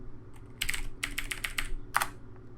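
Typing in the VS Code editor on a computer keyboard: a quick run of close, crisp key clicks in small clusters, ending with one firmer keystroke, and no talk.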